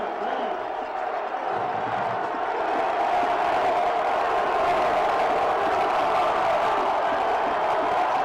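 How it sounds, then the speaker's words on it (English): High school football stadium crowd during the Steubenville Big Red versus Massillon Tigers game, a broad sustained roar of cheering and whoops that swells and stays loud, with a voice heard faintly early on. "Listen to this crowd."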